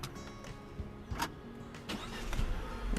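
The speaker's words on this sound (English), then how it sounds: "Foot on the brake, pressing the start button." A Peugeot 508 sedan with a 1.6-litre PureTech engine starts at the push of a button, with a brief crank burst and the engine catching and rising toward the end, heard from inside the cabin.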